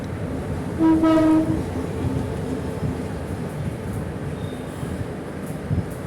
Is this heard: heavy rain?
no